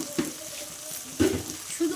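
Spice paste masala sizzles and fries in oil for an egg curry, a soft steady crackle with a few brief louder bursts as it is stirred, close and fairly quiet.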